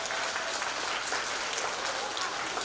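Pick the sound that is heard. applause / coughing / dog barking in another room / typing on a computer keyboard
applause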